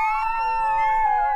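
Newborn Rottweiler puppies from a litter of ten whine and cry in a long, continuous high-pitched wail that wavers slightly, close and loud, with no voices.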